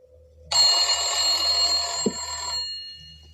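An old, rusty telephone bell rings loudly in one sustained metallic jangle for about two seconds, then stops abruptly, leaving a low hum behind.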